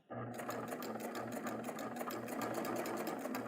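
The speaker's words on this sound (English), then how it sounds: "I'm just going to keep stitching." A Baby Lock Triumph serger stitches fabric with a steady, close, rapid mechanical whirr that starts abruptly and runs continuously without pause.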